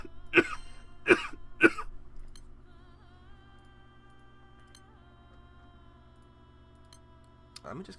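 Three quick dry coughs sound close up in a quiet room, evenly spaced over about a second and a half, followed by a faint low hum and an occasional click.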